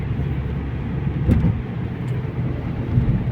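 A car rolls across a bridge over the Vistula in Warsaw in winter, heard from inside as a steady, even road rumble with a faint engine hum and a brief bump midway.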